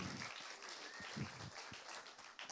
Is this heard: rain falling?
no